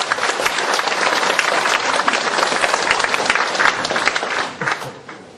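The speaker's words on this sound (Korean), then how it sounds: "여러분들 배우신 여러분 우리 강연자 도현철 교수님께 큰 박수 부탁드립니다." A large lecture-forum audience applauds steadily with dense, sustained clapping that fades out toward the end.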